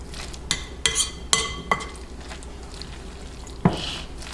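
Hash brown casserole mixture stirred in a bowl with a utensil, a few distinct clinks and scrapes against the bowl followed by soft squishy mixing, close up and moderately quiet.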